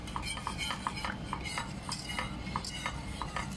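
A wire whisk stirs sauce in a cooking pot as it comes to a boil, giving a quick, even rhythm of light metallic taps and scrapes against the pot.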